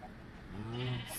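A single sheep bleats once in a survival video game, a short wavering cry heard fairly faintly over low background ambience.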